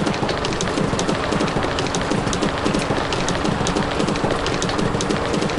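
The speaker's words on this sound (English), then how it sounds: "Ah, god damn it, the train up ahead!" A train approaches in a video game, a dense, steady rumbling clatter like heavy rail traffic that stays loud and unbroken throughout with no voices.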